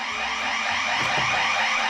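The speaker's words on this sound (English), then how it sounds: "there goes the alarm again." An alarm sounds again and again, sustained and fairly loud over a bright, hissy background, in a home filled with hoarded goods where a portable air conditioner is being sorted.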